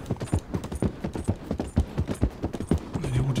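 Steady clip-clop of horse hooves trotting on a hard surface in Red Dead Redemption 2, close and even in rhythm, with faint background ambience.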